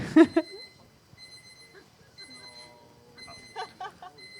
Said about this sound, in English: that means it's the alarm for questions